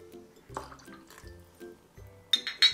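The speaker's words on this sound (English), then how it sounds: "Some tomato juice." Tomato juice trickles and drips into a glass while making a Bloody Mary, soft liquid splashes followed by a few sharp glassy clinks near the end.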